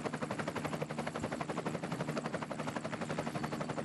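A helicopter filming a gravel bike race thuds overhead with a fast, steady rotor chop, a loud continuous pulsing drone with no pauses.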